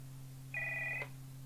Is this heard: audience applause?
no